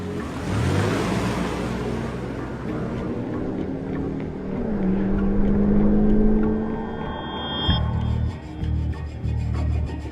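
Cars roaring through a movie car chase, a sustained engine drone with rising whine and rumble, mixed with music and effects over about ten seconds and no dialogue.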